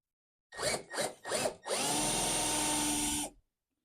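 A countersink bit drills into wood. Three short trigger bursts of a power drill come first, then one sustained whirring run of about two seconds, close and clear.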